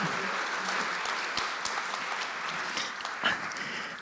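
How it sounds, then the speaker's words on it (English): A crowd applauds steadily, a dense wash of clapping that holds at an even level for several seconds with no voices on top. "Let's all give Loea, Lynette Paglinawan a round of applause and a warm welcome."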